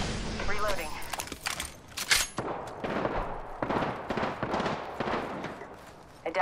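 Apex Legends gunfire crackles in quick bursts and scattered sharp shots under busy game noise, with a voice talking through the exchange.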